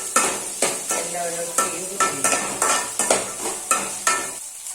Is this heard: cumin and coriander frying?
yes